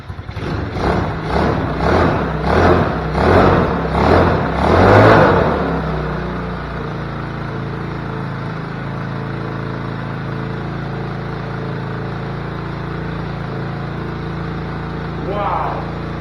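A Tao Tao 125cc Chinese ATV engine, freshly swapped in, revs in loud rhythmic bursts for about five seconds, then settles into a steady, close idle that runs on to the end.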